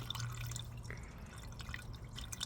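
Liqui Moly Pro-Line engine flush is poured into the oil of a 2016 BMW 328i F30, a faint steady trickle with light dripping and gurgling close by over a low hum.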